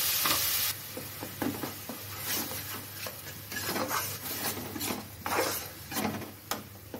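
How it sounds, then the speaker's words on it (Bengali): Spices fry in the same oil used for potatoes while a spatula scrapes and stirs repeatedly, giving a continuous sizzle broken by irregular rasping strokes, close and moderately loud, with no talking. "এখন ওই তেলেই আমি মশলা কষিয়ে নেব।"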